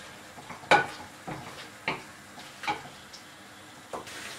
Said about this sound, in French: Là, je tourne vraiment délicatement pour que le poisson reste un peu en gros morceaux